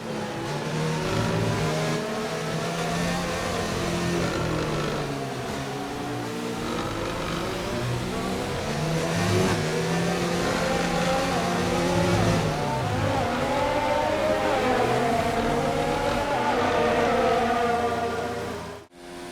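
A Formula 1 car in F1 2019 at the British Grand Prix holds a continuous high engine whine that rises and falls through gear changes and throttle, loud and close for the whole stretch with no voices.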